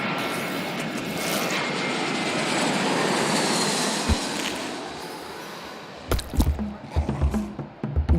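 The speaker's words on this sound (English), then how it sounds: "When the acceleration of takeoff had slackened, John felt a sweet relief. He had left his worries on the runway" Fixed-wing airplane taking off and climbing, a loud sustained engine roar that swells and holds for several seconds, then gives way to closer bumps and rustling knocks near the end.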